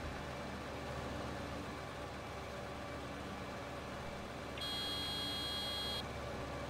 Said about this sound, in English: I had to beep at him and tell him to get out of the way